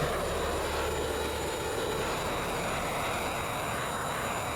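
A plane's aircraft engine drones steadily in a video game as it taxis, a constant loud whine and rumble with no breaks and no voices.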